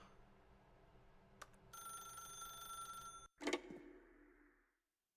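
A telephone rings in the video game The Stanley Parable: a sustained electronic bell tone, fairly faint, cut off abruptly by a clunk as the receiver is handled, then fading into silence.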